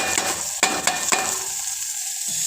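Roasted cluster beans (guar) and tomatoes being stirred in a pan, a few scraping clicks of the spatula over a steady sizzling hiss, close and fairly loud.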